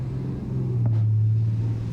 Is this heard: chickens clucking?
no